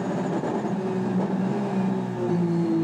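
A JGTC race car engine at full throttle in fourth gear at Suzuka, a loud, sustained roar with rising tone over a few seconds.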